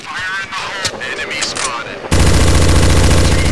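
Gunfire in Counter-Strike Source on a zombie escape map, starting with a few scattered shots and then breaking into a loud, dense, continuous barrage of rapid automatic fire.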